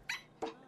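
Dog in a TV commercial giving two short, sharp yelps or barks about a third of a second apart, close and clear.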